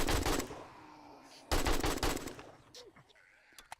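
Automatic gunfire in the survival game 7 Days to Die, two loud rapid bursts of shots separated by a brief pause, then trailing off into quieter scattered sounds.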